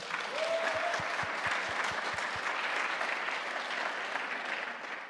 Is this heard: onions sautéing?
no